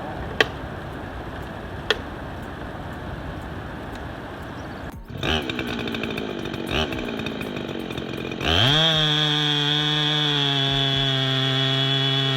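Loggers' chainsaw cutting timber idles with a rough, ticking rattle, then revs up partway and finally roars into a loud, sustained high-speed whine held steady to the end.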